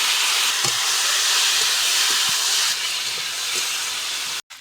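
Fried potato and tomato drop into hot oil with dry red chillies and five-spice, giving a loud, close, continuous sizzling hiss with a few soft knocks, ending in a sudden cut to quiet.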